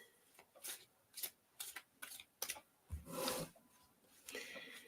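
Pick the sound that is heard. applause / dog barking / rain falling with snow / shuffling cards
shuffling cards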